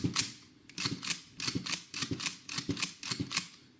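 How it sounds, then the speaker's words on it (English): An MP5 fitted with a new trigger housing is dry-fired, racked and reset over and over, giving a steady series of sharp metallic clicks and clacks close up, roughly two or three per second. "rack it, fire, rack, reset, fire, rack, reset, fire"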